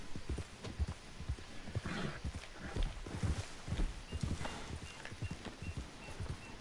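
Horse hooves clip-clop steadily in Red Dead Redemption 2 on PS4 Pro, a quick, even walking rhythm of close, quiet thuds running throughout without speech.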